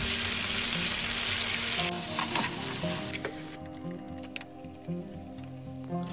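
Mutton paprikas with tomato and salt cooks in a pot, a dense hiss and bubbling sizzle that drops sharply quieter partway through to a soft simmer with faint clicks.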